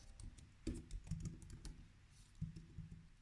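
Fingers tapping on a computer keyboard, irregular bursts of soft clicking keystrokes with brief pauses, close and fairly quiet, no voices.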